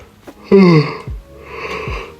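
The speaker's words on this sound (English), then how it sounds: "Oh god, I'm yawning a lot." A single drawn-out yawn, close and fairly loud, with a rising then falling breathy voice, followed by softer exhaled breaths.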